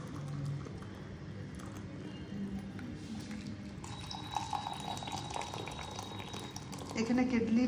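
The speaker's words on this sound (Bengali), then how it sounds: "ইলেকট্রিক কেটেলটা, কেননা ওখানে যেটা ছিল দুটোই খারাপ হয়ে গেছে" An electric kettle boils water for tea, making a steady bubbling rumble that swells slightly toward the end, with a voice talking over it at times.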